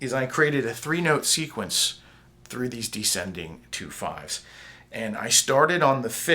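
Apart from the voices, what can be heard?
No everyday noises stand out.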